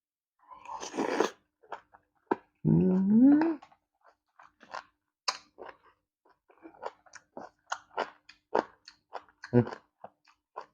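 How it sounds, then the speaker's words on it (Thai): Crunchy chewing of large squid tentacles in a spicy pounded salad, close and loud, with a burst of crunching followed by many sharp, irregular bites and a brief murmured hum in between. "ฟังเสียงกรอบกรุ๊บกรุ๊บกรุ๊บสุดยอด"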